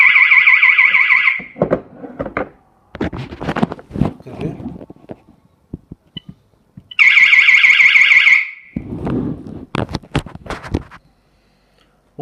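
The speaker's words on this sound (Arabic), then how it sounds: "ممكن نشغل صافة الإنذار للحظة." A Kaadan burglar and fire alarm siren blares in two loud, steady bursts, one at the start and one midway, with clicks, handling knocks and beeps between them.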